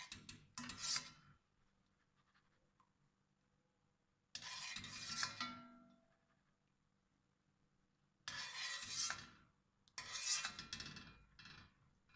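A spoon scrapes cooked, softened bottle gourd vegetables out of a pot into a bowl in four separate rasping bursts, close and clear, with quiet pauses between them.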